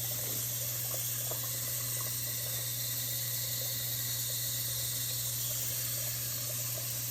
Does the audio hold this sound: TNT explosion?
no